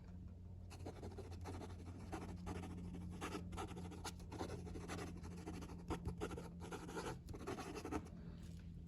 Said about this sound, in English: Now, fast writing.